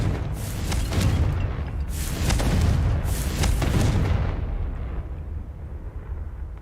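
A Confringo blast spell goes off in Hogwarts Legacy, giving a loud, rolling explosive boom with crackling bursts that swell and fade across several seconds, no talking over it.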